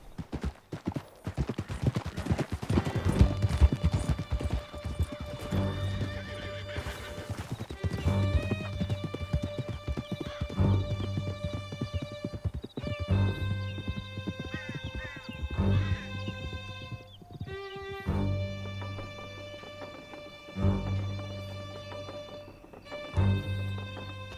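A horse gallops in the Red Dead Redemption 2 game, its hooves beating in rapid rhythmic clip-clop under a layer of game music, with occasional whinnies and brief voices, loud and continuous.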